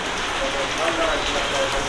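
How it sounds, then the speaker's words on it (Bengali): Steady rain pours outside, a dense even hiss of drops on surfaces filling the whole stretch at moderate loudness, with no voices on top. "এখন দেখো কেমন বৃষ্টি বাইরে"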